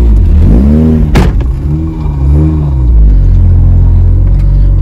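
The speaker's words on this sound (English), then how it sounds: "you might be able to hear this transmission. Throw bearing." Mazda RX8 with a failing throw-out bearing in the transmission, a loud close engine rumble rising and falling through revs, with a sharp knock or clunk early on and a steady mechanical drone throughout.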